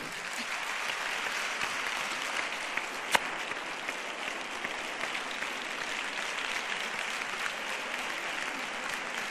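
An audience at a conference on violence against women applauds at length, a steady, even wash of many hands clapping at moderate volume for about nine seconds, with one sharp knock partway through.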